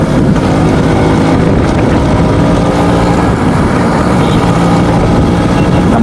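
A Suzuki Samurai two-stroke motorcycle cruises at about 40 km/h, its engine a continuous close buzz buried under heavy wind rush, loud and unbroken from start to finish.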